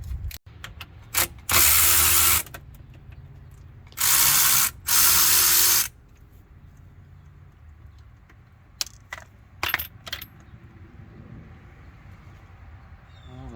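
Ratchet with a 1/2-inch socket working on the rear end of a Jeep ZJ in a shop, loud clicking spins in two long bursts broken by scattered metallic clinks and quieter pauses.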